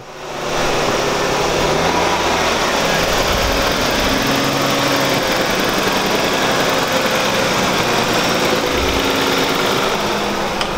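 A manual-transmission car engine catches after a brief pause and settles into a loud, steady, close idle that runs on unbroken with no voices.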